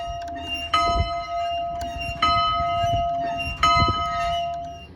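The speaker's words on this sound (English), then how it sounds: "for the fire drill, it is indicated by the constant ringing of the bell" A metal fire drill bell is struck about three times at a steady pace, each clang ringing on with bright overtones between strikes.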